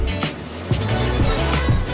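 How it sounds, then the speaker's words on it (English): Turbocharged petrol engine of a Mercedes GLB 250 SUV running, heard as a steady low drone with soft rhythmic thumps roughly every half second, fairly loud and continuous. "The engine on the GLB 250 runs so smoothly."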